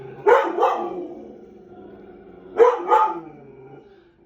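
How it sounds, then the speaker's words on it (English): A dog barks twice, each a quick double bark, separated by a couple of seconds of quiet, fairly close. "I don't even know what she could be barking at."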